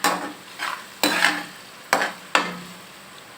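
Food sautés and sizzles in a pan while a spoon stirs it, giving four or five sharp scraping strokes at uneven intervals over a soft, continuous frying hiss, close up with no talking.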